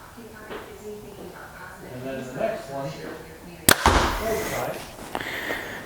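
A Hoyt Carbon RX4 compound bow releases a single sharp, loud snap at a shooting range, followed by a brief ringing decay. Quiet voices can be heard before the shot.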